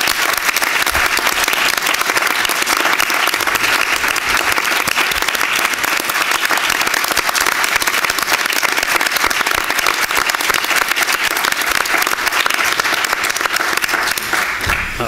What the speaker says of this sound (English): So I'd like to give a round of applause to Bernard.